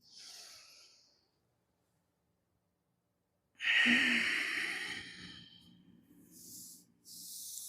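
Two deep yoga breaths spaced by silence: a soft fading exhale, then a long forceful hissing breath, followed by quieter airy breathing. Close and distinct, with no talking.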